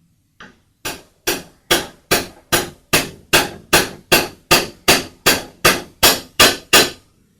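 Sixteen sharp metallic hammer blows drive a bearing onto a drill press spindle, struck at an even, steady rhythm about every half second, close and loud with no talking.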